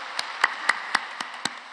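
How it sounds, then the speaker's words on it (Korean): A church congregation claps during a worship service, with six sharp, evenly spaced claps over under two seconds, fairly quiet and slightly distant. "하나님께 영광의 박수 올려드리겠습니다."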